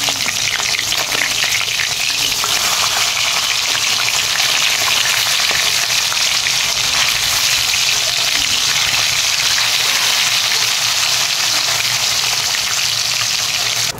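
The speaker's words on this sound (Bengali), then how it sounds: "মাছ ভাজার জন্য আমি কড়াই সর্ষের তেল দিয়ে দিচ্ছি।" Japanese puti fish frying in hot mustard oil in a kadai, a loud, steady crackling sizzle that runs unbroken for the whole stretch with no talking.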